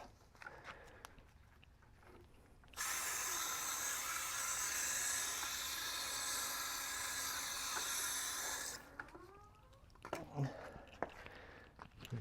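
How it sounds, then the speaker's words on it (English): Water sprays hard onto a scrubbed car tire during a McKee's 37 tire coating job, a loud steady rush of about six seconds that starts and stops sharply, with quiet handling sounds on either side. "So we're going to go ahead and rinse it off."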